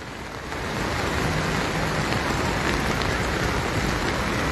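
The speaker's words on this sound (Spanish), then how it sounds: "Y así como acá está lloviendo fuerte." Heavy rain falls steadily outdoors during a street protest blockade at a bridge, a dense constant hiss that swells in after a quiet start and continues without talk.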